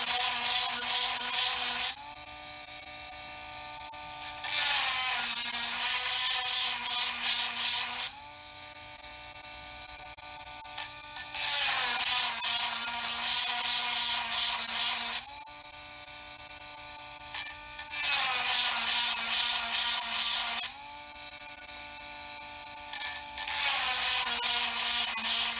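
A chainsaw chain is sharpened with a diamond grinding bit, producing a high whine that changes pitch in repeated strokes of about five seconds each, one tooth after another, steady and close.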